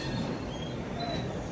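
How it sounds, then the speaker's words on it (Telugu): The Simhapuri Falaknuma Express pulls into platform 9 with a steady, loud rumble of wheels and rolling stock, marked by faint thin squeals over the continuous roar. "సింహపురి ఫలక్నామా ఎక్స్ప్రెస్ అయితే వస్తుంది"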